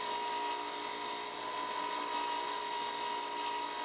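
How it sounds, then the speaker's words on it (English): A wire wheel on a bench grinder cleaning the commutator bars of a Honda ATV starter motor, heard as a constant steady whine with a faint rough brushing texture, unbroken and without talking. "I'm going to take this over to the wire wheel on the grinder and I'm going to clean up these comm bars"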